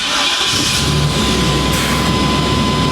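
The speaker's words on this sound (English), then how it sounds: "Turned over like a couple times and fired right up" A GMC Sierra truck engine running just after it started: a loud, steady roar close by with a constant high whine and a low rumble beneath, continuous and without talk.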